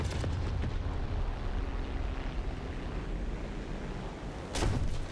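Sustained roaring gunfire from a fighter aircraft's cannons in the combat flight game War Thunder, a dense continuous rumble with a brief louder burst near the end.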